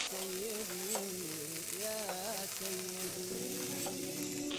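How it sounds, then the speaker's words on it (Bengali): Chicken vegetable fried rice sizzles in a wok while being stirred constantly, giving a dense, steady frying hiss. Faint scrapes and clinks from the stirring run through it at close range. "এটা অনবরত নাড়তে হবে, না হলে কড়াইয়ে লেগে যেতে পারে।"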